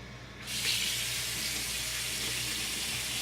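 A kitchen faucet turns on with a sudden rush and keeps running steadily into the sink, a close, even hiss of water rinsing the basin, with no voices.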